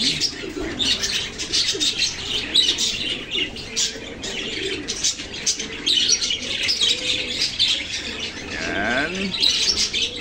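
Pet parakeets, also called lovebirds, in a cage give steady chirps, tweets and soft squawks, with some wing flapping near the end; the calls continue busily and close by throughout, with no talk.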